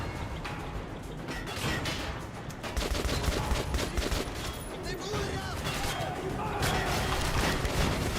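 Gunfire crackles in Metro 2033 during a tunnel firefight, sharp mechanical rattling shots and clacks over a steady noisy background, with a voice speaking at points.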